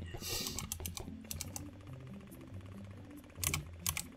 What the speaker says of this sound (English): You can probably hear me clicking the keys like crazy.